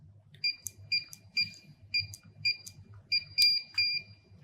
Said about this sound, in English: Your keypad should beep twice, indicating that the access code has been successfully deleted